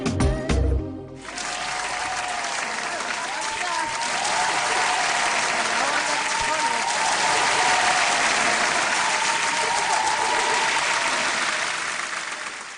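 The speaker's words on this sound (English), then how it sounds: "Calm down with the clapping, I want to talk." Loud, sustained applause from a large crowd at a radio chat show, steady clapping that swells slightly and continues throughout, with a brief burst of other noise at the start.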